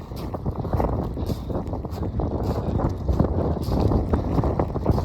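Strong wind at a glacier on a day with an amber weather warning, roaring and buffeting against the microphone in heavy, uneven gusts that continue throughout, loud and close with no talking.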